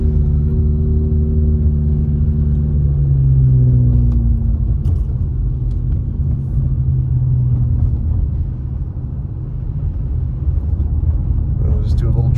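A car drives up a snowy mountain road in Big Bear, California, with a steady engine drone and road rumble throughout, a low hum shifting in pitch as it goes.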